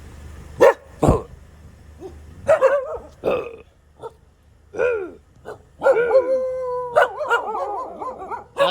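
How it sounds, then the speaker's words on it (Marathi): Several dogs bark and yowl in competing bursts, close and loud, with short yips and longer howling barks growing denser toward the end. "तुमचा कोण भारी भुकत बघू"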